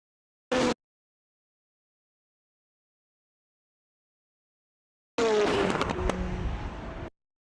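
Koenigsegg Jesko and Bugatti Chiron supercars in a drag race: a brief loud burst early, then after a long silence a dense roaring, scraping rush of engine and wind noise lasting about two seconds before cutting off abruptly.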